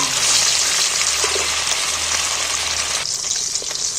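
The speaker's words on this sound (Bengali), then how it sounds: "দেখো বাকি মাছগুলো কিন্তু আমি ভেজে নিচ্ছি" Fish pieces fry in hot oil with a loud, steady, close sizzle and crackle throughout, the spattering briefly thinning near the end.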